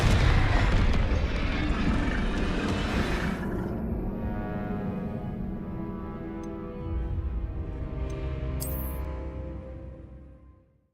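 A Confringo blasting spell explodes in the Hogwarts Legacy video game: one loud, booming blast that slowly rumbles away over several seconds, with no voices.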